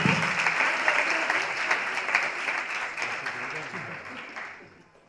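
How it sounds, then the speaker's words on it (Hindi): Loud applause from participants at an open house discussion, dense clapping from the start that gradually fades away over about five seconds. "जोरदार तालियां पार्टिसिपेंट्स के लिए।"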